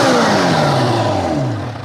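A Kawasaki Ninja H2 motorcycle engine revs loudly close by, its pitch sweeping downward as the throttle falls off over about two seconds.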